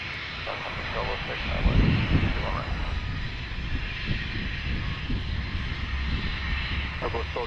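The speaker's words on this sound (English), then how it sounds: "Next arrival will be Southwest 1206, a 737-800 from St. Louis." A Southwest Boeing 737-800 arriving at Dallas Love Field during thunderstorms, its steady jet engine roar filling the whole stretch at moderate loudness, with people talking faintly underneath.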